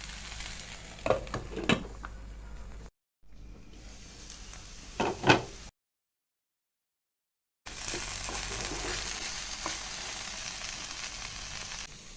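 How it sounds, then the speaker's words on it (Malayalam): Okra cooks in a covered pan for an okra milk curry and is stirred now and then: a low frying hiss with clattering scrapes, broken by a few brief silent gaps. "ഇടയ്ക്ക് അടപ്പ് മാറ്റി ഇളക്കി കൊടുത്തുകൊണ്ടിരിക്കുക"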